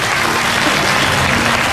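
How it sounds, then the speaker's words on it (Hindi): An audience applauds in welcome at a religious discourse gathering, sustained dense clapping that stays loud and even throughout with no pauses. "ताली बजा"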